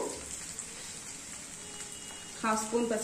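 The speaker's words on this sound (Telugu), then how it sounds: "కొద్దిగా ఫ్రై చేసుకుందాము." Potatoes with ginger garlic paste and turmeric frying in a pan for a ridge gourd and potato curry, giving a steady, moderate sizzle throughout, with a brief louder clatter of stirring near the end.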